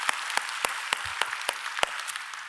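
A church congregation at a Korean Sunday worship service applauds, a steady wash of clapping from many hands with a few sharp distinct claps standing out.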